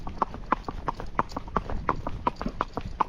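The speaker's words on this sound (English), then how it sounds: "See, now he's trying to canter." A Rocky Mountain horse moves with its hooves beating in a quick, even clip-clop rhythm, close and distinct, at roughly three footfalls per second with no pauses.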